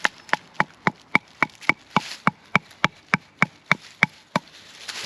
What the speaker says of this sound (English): Found a better stick for hammering in.